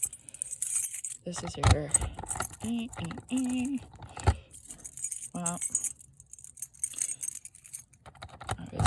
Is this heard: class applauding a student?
no